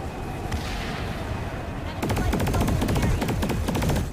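Rapid bursts of automatic gunfire from the Serpent weapon in PlanetSide 2, a fast rattling stream that begins midway and continues to the end, loud and close after a stretch of background din.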